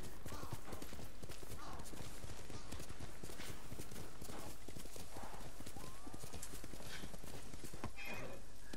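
Rhythmic clip-clop of horse hooves trotting continuously in the video game Ghost of Tsushima, with a whinny partway through, over a dense, busy background.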